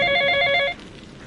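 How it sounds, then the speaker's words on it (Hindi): A telephone rings once, a close, bright electronic trill lasting under a second before cutting off into quiet room tone. "तभी फोन बजा।"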